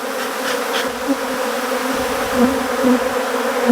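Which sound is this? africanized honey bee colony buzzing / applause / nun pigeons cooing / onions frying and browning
africanized honey bee colony buzzing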